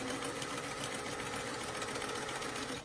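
A sewing machine stitches a doll jacket at a 2 to 3 inch stitch length, its steady rapid mechanical whir running continuously without pause, close and loud, before cutting off at the very end.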